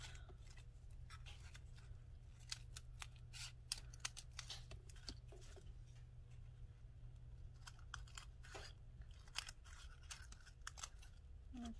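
Scissors trimming pattern tissue paper, a quiet close series of quick irregular snips and crisp paper rustles over a low background hum, no talking.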